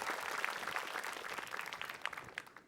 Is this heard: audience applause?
yes